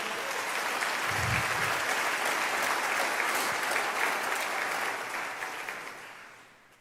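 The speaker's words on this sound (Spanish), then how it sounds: "Si va a aplaudir a Jesús, apláudale fuerte." Congregation in a church service applauding, a dense sustained wash of clapping that fills the room, loud and steady before tapering off at the end, with no speech over it.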